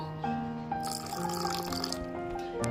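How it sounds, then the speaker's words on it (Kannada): Two to three spoonfuls of cooking oil trickle into a bowl of raw jackfruit kabab batter, a soft continuous liquid pour with faint drips, close and alone without speech. "ಇಲ್ಲಿ ನಾನು ಎರಡರಿಂದ ಮೂರು ಚಮಚದಷ್ಟು ಎಣ್ಣೆ ಸೇರಿಸ್ಕೊತಾ ಇದ್ದೀನಿ"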